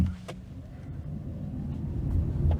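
A Renault 5 pulls away hard in sport mode from a standstill, its drive rumbling low and building steadily in loudness over a few seconds, heard from inside the car with no talking.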